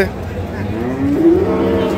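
A dairy cow at Ambari cattle market in Dinajpur district gives a loud, close, drawn-out moo over a murmuring crowd.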